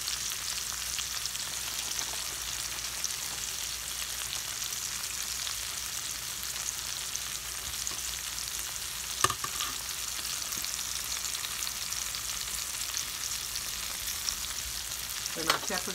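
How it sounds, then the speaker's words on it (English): Frozen pre-cooked potatoes fry in a pan, giving an even, steady sizzle that holds unchanged throughout, with one faint clink near the middle and a soft scrape at the end. "I'm going to add my potatoes and let them go ahead and fry."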